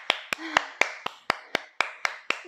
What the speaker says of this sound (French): vous pouvez vraiment vous applaudir